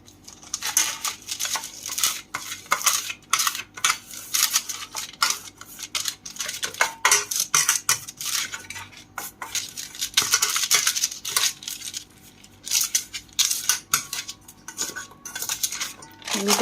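Butter being spread around the inside of a cake tin lined with a round of baking paper, heard as a dense run of close scraping and light metallic clinks that goes on steadily, with no talking.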